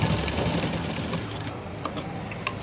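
Sewing machine running steadily while stitching frills onto a skirt, a close continuous whirring hum that thins out near the end with a few short bursts.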